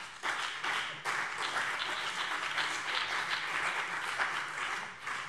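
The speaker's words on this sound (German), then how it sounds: "Applaus" Applause in a parliament plenary session, a sustained, even roar of many hands clapping in a large chamber, starting abruptly and holding steady before easing at the end.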